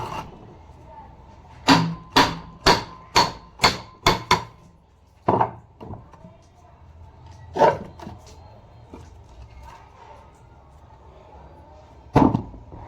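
Sharp metallic knocks from removing the head of a Kirloskar water pump, a quick series of about seven taps followed by a few isolated strikes, close by with someone talking between them.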